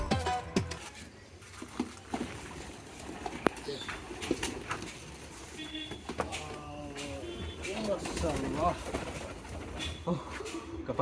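Pet pigeon cooing at a loft during bath time, soft intermittent coos amid clattering, rustling and handling noises, fairly faint and close.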